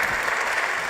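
An audience at a global summit applauds in a steady, dense burst of clapping that fills the hall, brief and fairly loud, with no voices standing out.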